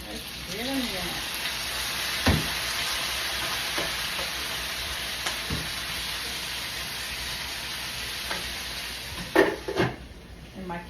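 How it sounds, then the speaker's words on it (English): Onions dumped into a pan of frying potatoes sizzle with a steady hiss, broken by occasional scraping and clatter of utensils and a brief voice in the background. "let's go ahead and dump these onions on in here because these potatoes are about ready"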